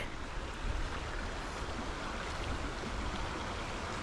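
Bear Creek flows in a steady, soft rushing wash, a faint and even background with nothing else standing out.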